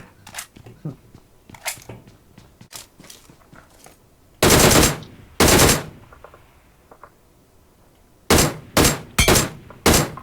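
Gunfire in a video game shooter, with quick bursts of shots in loud, sharp clusters, several heavy volleys spaced through the clip, and fainter shots and clicks between them.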